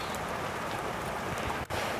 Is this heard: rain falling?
yes